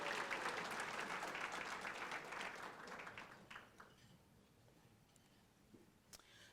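An audience at a Southfield State of the City address for the chamber of commerce applauds loudly. The clapping fades after a few seconds into scattered single claps.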